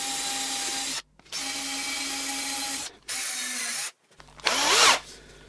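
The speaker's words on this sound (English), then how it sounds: "Then drill that through, starting with a small 4mm bit." A battery drill with a failing, nearly flat battery bores a hole through a painted brick wall with a small 4mm bit, a steady high whine in several bursts separated by short pauses, ending in a harsher, louder grinding spurt.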